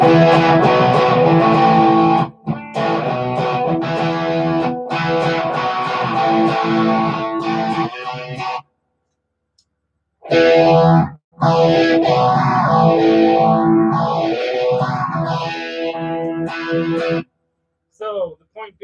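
Electric guitar chords and a sweeping, wavering lead line drenched in arena-style electronic reverb, with brief silent gaps between phrases.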